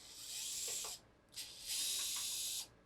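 Two bursts of screwdriver ratcheting as screws come out of a hard drive mounting bracket inside a custom server, the first about a second long, the second longer after a brief pause, close and fairly quiet.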